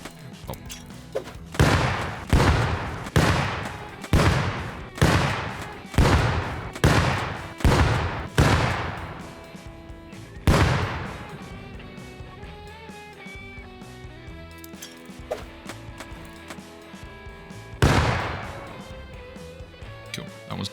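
Grenade explosions during a Rust raid on a solo base called the Carver: about eight loud, evenly spaced booms in quick succession, then a pause and two more separate blasts, with a faint voice in between.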